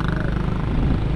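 Motorcycles passing on a road, heard as a steady, close engine rumble that fills the whole moment without a break.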